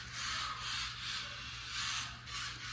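A steady, buzzy electric whine from a 1/43 scale RC drift car motor running at low speed, with gentle surges in loudness and no voices.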